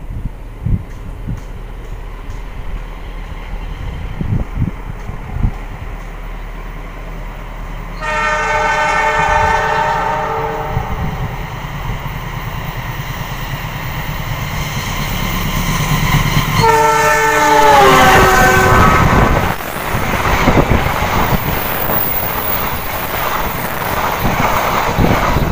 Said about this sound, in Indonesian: setelah KA Argo Wilis ini sampai di stasiun Banjar, KA Pasundan akan diberangkatkan dari stasiun Banjar